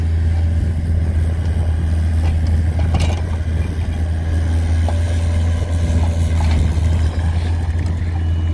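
Backhoe engine droning steadily while digging into dry, rocky ground, a loud, constant low rumble with faint scrapes and knocks on top, no talk.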